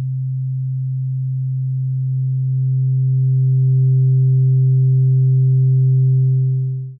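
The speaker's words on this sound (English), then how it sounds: "once we apply saturation, you'll start to see other frequencies crop up, and the more I increase the saturation amount, the louder these become" A pure low sine tone has saturation added gradually, so faint upper harmonics emerge and grow louder over a steady, sustained hum that ends abruptly after about seven seconds.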